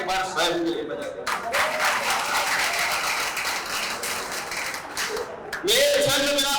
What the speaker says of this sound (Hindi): जोरदार तालियां एक बार स्वयं के लिए बजा दें।